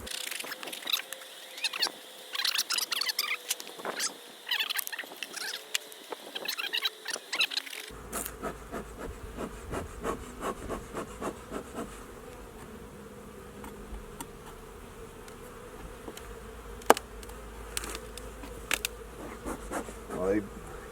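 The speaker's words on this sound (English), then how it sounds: "you can hear that cracking. It's because they've got it propolized down pretty well" Wooden beehive frames crack and pop loose from sticky propolis as a Colorado hive is opened for its first inspection, sharp scattered clicks over a steady close hum of buzzing honeybees.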